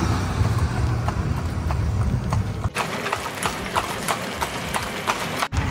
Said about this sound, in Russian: На карете, на лошади.